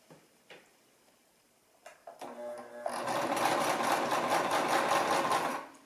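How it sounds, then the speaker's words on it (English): A sewing machine runs gently as it stitches around a baby hat, starting after a few soft clicks and handling noises, then humming steadily with a fast rhythmic needle tick for about three seconds, close and clear with no talk. "I'm going to sew very gently"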